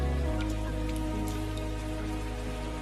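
Steady rain falls continuously with a dense, even patter, close and moderately loud, with no voices over it.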